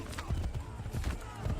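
A horse gallops in the game Assassin's Creed 3 Remastered with a rapid, rhythmic drumming of hooves, close and fairly loud. Brief overlapping noise runs through the short burst.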